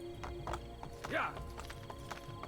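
Horse hooves clip-clop at a gallop in the Assassin's Creed Brotherhood video game, with a brief whinny rising midway, mixed with a player talking over the game audio.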